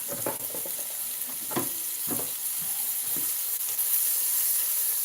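Swedish meatballs frying in a pan, with a steady close sizzle and hiss running throughout and a few scattered louder scrapes and clinks of a spoon.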